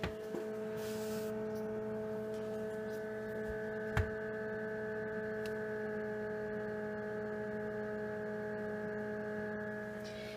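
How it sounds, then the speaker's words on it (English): Constant mechanical fan hum of a Brinsea Maxi Advance II forced-air egg incubator with a steady tonal drone, unchanging throughout, with one faint click partway through. "it's a forced air incubator, so there's air constantly going"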